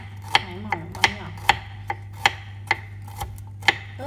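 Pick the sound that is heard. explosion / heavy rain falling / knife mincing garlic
knife mincing garlic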